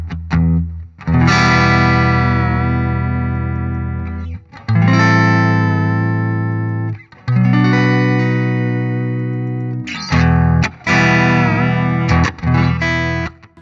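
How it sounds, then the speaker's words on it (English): A cheap Strat-style electric guitar, Harley Benton or Jet, rings out with sustained distorted chords. The tremolo arm adds a slight wavering pitch wobble, with several strums each decaying before the next. "This is the tremolo arm, and I'm going to play around with that ever so slightly, just in a sort of wavery kind of way."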